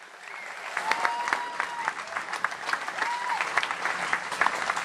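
Crowd at a pro-life rally in Brisbane claps steadily at moderate distance, a sustained patter of many hands with some louder individual claps, while a voice speaks over it.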